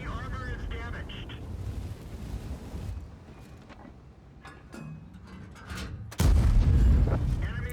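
A tank cannon fires in World of Tanks, a sudden heavy boom near the end that follows a stretch of engine rumble and battle noise, with a voice speaking over the earlier part.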